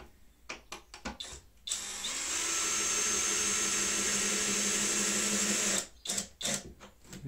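A cordless screwdriver whirs steadily for about four seconds, driving a screw into the wooden body of a simple beehive being built for splits and spare queens. Short knocks and handling clatter come before and after the run.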